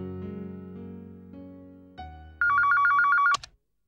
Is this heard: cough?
no